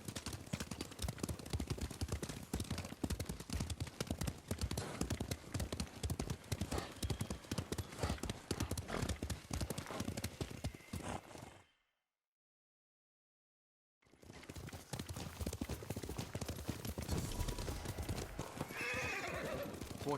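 Horses gallop in the video game Ghost of Tsushima, a rapid, close clip-clop with whinnies, broken by a brief silence before the hoofbeats resume.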